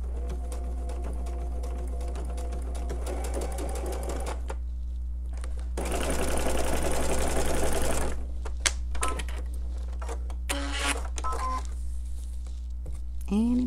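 A sewing machine stitches quilt fabric in rapid bursts of mechanical clatter, with a louder dense run in the middle and quieter pauses, over a steady low hum; a voice talks faintly at times.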